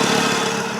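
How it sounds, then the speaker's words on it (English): Idling 2000 Volvo S70 with a slight exhaust leak, a close, steady engine drone with a faint ticking rasp throughout the short stretch. "A little bit of an exhaust leak"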